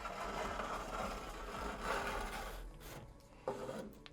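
Excess tile adhesive being scraped smooth with a hand tool, a continuous rasping scrape with rough, uneven strokes, close and fairly loud, ending with a small knock.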